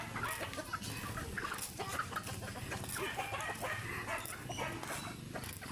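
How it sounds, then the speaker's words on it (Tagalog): A flock of chickens clucks and murmurs steadily, with scattered squawks and a dog barking in the background. "Ang dami niyang manok"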